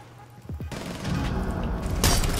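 Rapid gunfire in Rainbow Six Siege, a dense, loud burst of shots that swells over the second half with booming impacts, after a couple of short tonal sweeps at the start.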